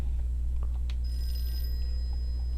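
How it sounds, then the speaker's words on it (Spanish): Telephone ringing with a bright electronic trill that starts midway and holds, sounding faint against a steady low hum in a quiet room with no talk. "Teléfono, a ver."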